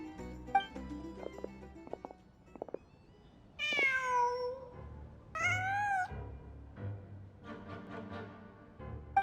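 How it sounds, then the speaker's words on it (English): Cat meowing in the Genshin Impact video game, two clear drawn-out meows a couple of seconds apart among soft game ambience and small clicks. "Huh. Just a cat."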